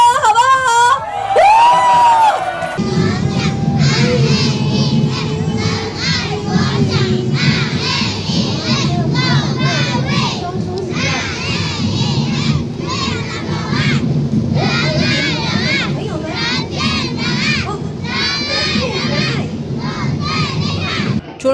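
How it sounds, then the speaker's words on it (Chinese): A large crowd of children at a seaside carnival in Keelung screams and cheers loudly and continuously, with shrill voices layered over a dense roar, after a brief moment of a single adult voice at the start. "来一个尖叫声，好不好？"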